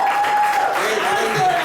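A crowd claps for a 16-year-old lyricist at a stage show, a brief dense burst with a sustained held tone running through it and voices mixed in.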